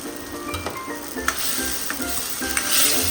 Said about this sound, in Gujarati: આદુ લસણ અને ચટણીને આપણે બરાબર સાતરી લઈશું